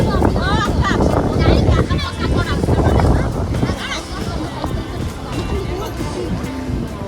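Strong wind at Edupayala temple buffets the microphone in a steady roar, with people talking over it throughout.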